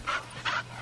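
A dog in a game dog kennel gives two short, breathy whimpering pants about half a second apart, close and fairly quiet over a low steady hum.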